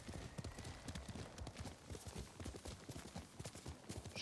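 Steady rapid hoofbeats of a galloping horse in the video game Ghost of Tsushima drum throughout, close and moderately loud, a continuous clattering rhythm with no voices.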